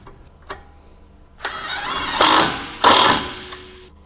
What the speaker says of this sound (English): Now use a 14mm deep socket with an impact to tighten the sway bar end link nut.